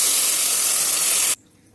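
Loud, steady hiss of water poured into a hot pan for mixed vegetable dal, sizzling hard for over a second before cutting off abruptly into near silence.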